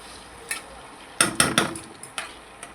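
Six tablespoons of garlic going into a pan for homemade Szechuan sauce, stirred with a spoon that knocks and scrapes against the metal in a short burst of clatters, quiet otherwise.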